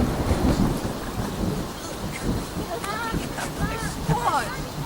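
Thunder rumbles low and continuous beneath steady outdoor rain, loud and close, while people talk over the storm.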